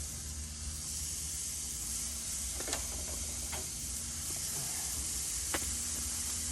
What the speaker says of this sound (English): I got my grill right around that 400 mark. So I'm gonna go ahead and put these burgers on